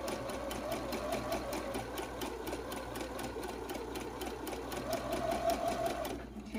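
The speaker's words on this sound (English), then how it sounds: "you're just going to sew along the raw edge, making sure you're obviously not going to sew on the inside of this line" A sewing machine stitches ribbon onto fabric with a steady close-up whirring hum and fast rhythmic needle clatter, running continuously before stopping just at the end.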